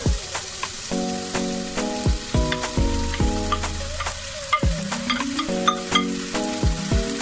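Chicken gizzard hits a hot frying pan for gizdodo and sizzles steadily, with scraping stirs and a few sharp clinks under background music.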